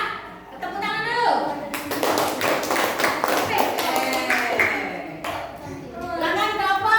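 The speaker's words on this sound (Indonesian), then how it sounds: "Ya, tepuk tangan dulu." A classroom of children claps together during a coding and robotics lesson, a burst of dense hand claps lasting several seconds, with children's voices chattering before and after.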